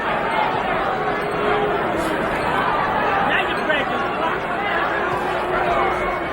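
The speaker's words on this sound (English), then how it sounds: "Crowd getting a little tired of that." Steady crowd chatter fills a boxing arena during the Mike Tyson vs Tony Tucker fight, a dense, continuous murmur of many voices at constant loudness, with a commentator talking over it.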